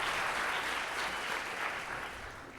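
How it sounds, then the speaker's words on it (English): A concert audience at a school choir spring concert applauds, a dense, steady wash of clapping from many hands that begins to fade toward the end. "So if you guys can give her a round of applause"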